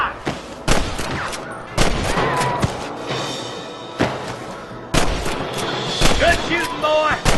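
Gunshots in the Red Dead Redemption video game, a series of loud sharp cracks and bursts spaced irregularly through the stretch, with shouted voices and music mixed in between the shots.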